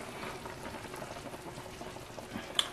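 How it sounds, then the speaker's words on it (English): Chicken boils in a pot with a steady bubbling, dense and continuous, with faint crackles and one brief sharp tick near the end. "I know you guys can see that chicken, guys. It's boiling."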